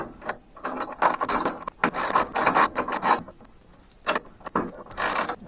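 Ratchet fitted with a 1/2 inch socket turning the threaded rod of a spring compressor, close, loud bursts of rapid clicking in several separate runs with short pauses between.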